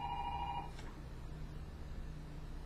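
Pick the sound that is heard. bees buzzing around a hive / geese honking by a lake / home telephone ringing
home telephone ringing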